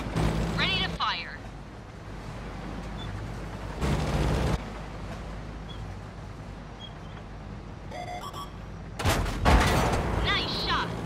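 Tank cannon firing in a tank video game, Object 268, with several heavy booming shots spaced apart amid engine rumble and crackling, and voices talking between them.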